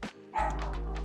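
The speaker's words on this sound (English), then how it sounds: "Sorry for my dog." A pet dog lets out a single short, close bark indoors, followed by a brief whimpering tail as the sound fades.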